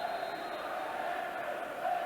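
A large football crowd numbering well into five figures roars and murmurs steadily inside a stadium at a Cardiff City match, a distant, continuous din.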